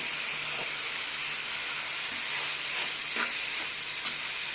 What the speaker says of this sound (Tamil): தக்காளி நல்லா ஃப்ரை பண்ணணும்.